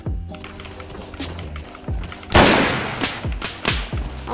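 Gunfire in a video game shootout rings out as a quick series of close, punchy shots, one especially loud burst followed by several sharper cracks in an uneven rhythm.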